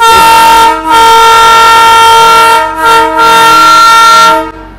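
The horn of the Darjeeling toy train blares very loud and close in long sustained blasts with brief breaks between them, then cuts off.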